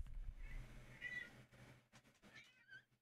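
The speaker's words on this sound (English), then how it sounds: "What, kitty?" A cat meows a few times, fairly close, with short drawn-out cries over a low background hum.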